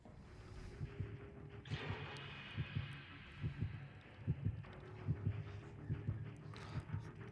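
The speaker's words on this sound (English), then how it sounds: "I'm hearing heartbeats inside the log cabin." A steady, rhythmic heartbeat from the video game Dead by Daylight thumps at a moderate pace, low and close, over a faint ambient hum with a brief rustle partway through.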